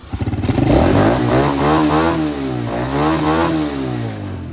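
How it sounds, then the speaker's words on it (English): A small dirt bike engine with a freshly cleaned Nibbi carburetor revs up hard and holds at high revs, rising and falling a few times, loud and close, with no voices. "Now you can see how much nicer it's revving out."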